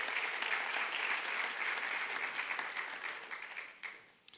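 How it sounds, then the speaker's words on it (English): An audience at a county schools annual education report event claps in a dense, steady wash of applause that holds for several seconds and then thins out to a few scattered claps. "So let's give them a round of applause."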